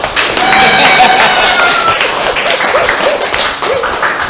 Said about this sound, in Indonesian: Tepuk tangan bebas asam urat.